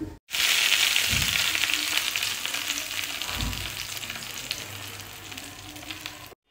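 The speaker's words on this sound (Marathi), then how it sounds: "आता आपण बारीक केलेल्या चटणीमध्ये तडका देऊया." Hot cumin and mustard seed tempering is poured onto ground chutney, starting a loud sizzle that slowly fades, with a couple of dull thuds.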